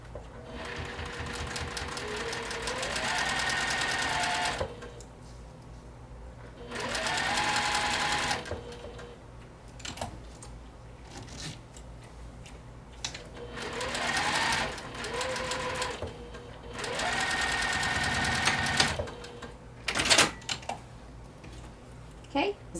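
A sewing machine bastes a zipper onto the exterior of a satchel bag in bursts of rapid stitching, several runs separated by pauses with the motor revving up and down, close by and alone.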